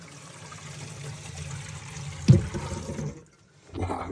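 Water from a filled sink gurgles down through a 1 1/4 inch PVC p-trap with an under-cabinet vent, a steady rushing drain with a sharp glug midway, then a brief hush and a final burst of flow.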